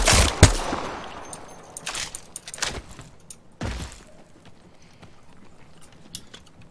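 Sharp gunshots crack in a video game, several irregular bursts with a loud one near the start, spread over a few seconds amid other game noise.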